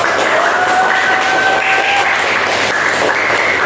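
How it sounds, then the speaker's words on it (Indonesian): Elementary school pupils applaud group 2 during a classroom lesson, a dense, loud burst of clapping with a high whistle-like tone and some voices running through it. "tepuk tangan"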